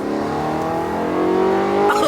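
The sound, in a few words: BMW E92 M3 accelerating on drive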